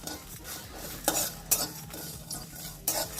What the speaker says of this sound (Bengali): ভালোভাবে ভাজা হয়ে গেছে, একটা ফটফট আওয়াজ হচ্ছে কড়াই থেকে।